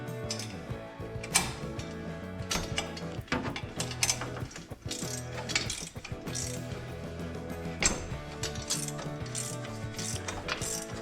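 A ratchet clicks repeatedly and steadily while a bolt is tightened on a front end loader mount for a John Deere 425/445/455 tractor, with metallic mechanism sounds continuing throughout and no voices.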